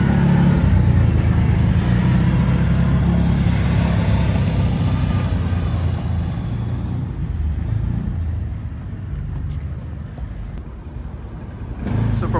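An Aodes Sportcross 1000 UTV rolls slowly in regular high drive off-road, its engine a steady, loud, low rumble that tapers gradually before rising again at the end.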